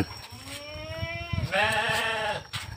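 Goats bleat close by, with two distinct wavering calls, the second louder and longer, over faint background rustling.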